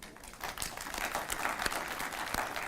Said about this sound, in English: Can we all start with a round of applause?